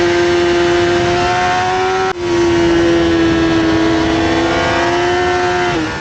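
Racing motorcycle engine on a circuit at Cremona, a steady loud high-pitched tone held through a throttle reopening, with a brief dip around two seconds before the note carries on strongly to the end.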